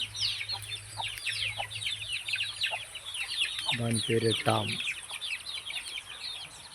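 Country-breed chickens and roosters cluck in a busy yard, with repeated near clucks and calls over a steady background, and a person speaks briefly.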